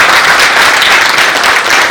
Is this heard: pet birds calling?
no